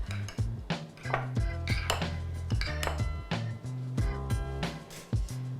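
A spoon or whisk briskly stirs a matzo meal mixture in a bowl, giving a dense run of clinks and scraping knocks against the bowl with no talking.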